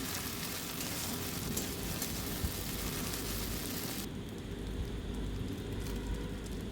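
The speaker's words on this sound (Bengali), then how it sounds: "এবার ভালো করে কষিয়ে নিচ্ছি।" Chopped fresh chilies and ginger-garlic paste sauté in a pan for an elephant foot yam and prawn curry, giving a dense, steady frying sizzle that fills the whole stretch with no voices.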